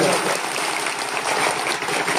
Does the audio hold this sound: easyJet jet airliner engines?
no